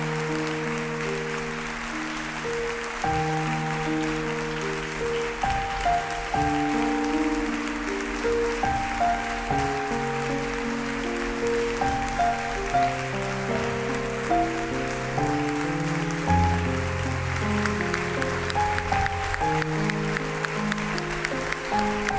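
A warm audience ovation at the opening session of a 2018 concert event: steady, dense clapping runs throughout, with sustained musical notes sounding beneath it.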